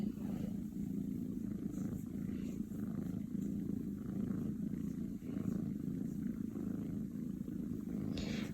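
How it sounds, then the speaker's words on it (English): Two cats purr together in a continuous, low, rumbling drone, close and steady, with no talking. "they have both started purring"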